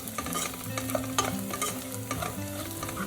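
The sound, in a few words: sautéing mutton keema gravy with chilli powder in groundnut oil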